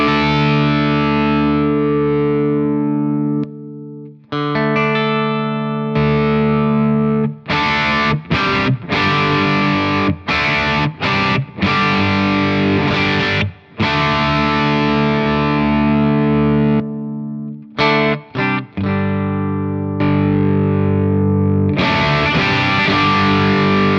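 Electric guitar runs through the green side of a Protein v4 overdrive pedal, playing loud, sustained distorted chords and single notes separated by short gaps.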